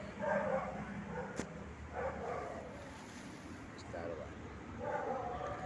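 Two dogs barking in short repeated bursts outdoors near a bridge on a city avenue, fairly faint and distant, mixed with broad background noise and someone talking.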